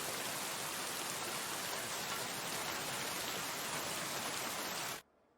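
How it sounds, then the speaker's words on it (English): Steady rain pours across the whole stretch in Kingdom Come: Deliverance II, a dense even hiss of falling water that cuts off abruptly near the end. "So it's raining a bit."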